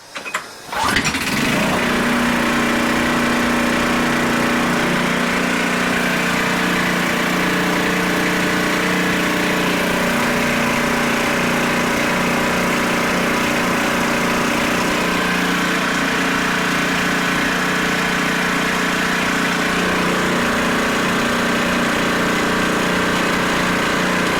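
A Briggs and Stratton flat head engine catches on a pull start and then runs continuously, a loud, steady buzzing drone that holds for over twenty seconds without a break.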